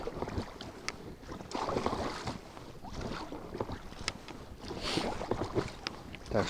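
Strong gusty wind blows over open water during stormy pike fishing from a boat, with gusts forecast up to 11 m/s, a steady broadband roar swelling and easing across the whole stretch, with no talk.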